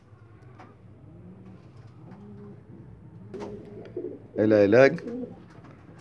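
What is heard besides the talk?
pigeons cooing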